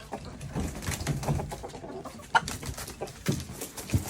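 Backyard chickens and a rooster clucking and calling nearby in the morning, with scattered short clucks and a few sharper calls.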